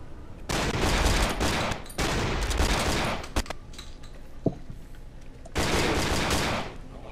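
Gunfire in the video game Cry of Fear: two long bursts of loud rapid fire, a gap holding a few scattered single shots, then another sustained burst.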